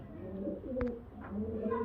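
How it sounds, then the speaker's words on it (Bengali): Murshidabadi Giribaz pigeon of an old flying line cooing softly in a short burst, with low murmuring calls and a faint background hum, no voices. "পুরোনো লাইনের পায়রা মুর্শিদাবাদি গিরিবাজ লাইনের"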